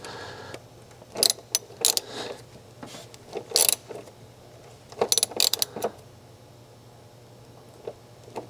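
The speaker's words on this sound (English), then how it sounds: "We'll switch back to our 8mm socket for this." A ratchet with an 8mm socket tightens a bolt on a 2014-2019 Chevy Silverado or GMC Sierra radiator fan, with several short clusters of sharp metallic clicks and taps separated by quiet gaps, close by.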